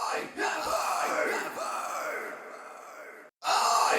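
Distorted rock vocal screams from a mix session, loud and sustained with a harsh, strained tone, cutting out abruptly near the end before returning at full force.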